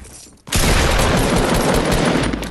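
A drum gun in a shooting video game unloads a dense, sustained burst of rapid automatic fire that cuts in abruptly after a brief quiet moment and stays loud and continuous to the end.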